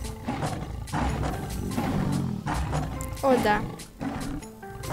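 Lion roars and growls from the Ultimate Lion Simulator 2 video game rise in rough bursts beneath a man's speech, with game sounds underneath.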